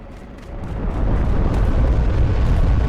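Storm King Demon's stingers raining down in Demon's Souls, a loud rolling barrage of booming impacts that swells after the first second and stays dense and thunderous to the end.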